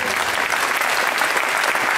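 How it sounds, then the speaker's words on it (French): Audience applauding steadily during a women's basketball team presentation for a French LF2 club, a dense, continuous clatter of clapping with no pauses across the short stretch. "Une américaine, Asia Logan, qu'on peut applaudir,"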